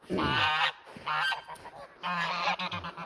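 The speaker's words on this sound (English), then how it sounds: "That's the protection noise, alerting her something's wrong." Toulouse geese honk loudly in alarm in three bursts of harsh, repeated calls, close by, with brief pauses between.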